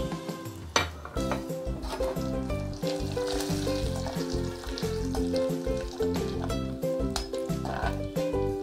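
Whole spices for jeera rice sizzle in hot oil or ghee in a pan, a loud, crackling fry with sharp spits and a few clinks of a metal spoon against the pot, close and continuous.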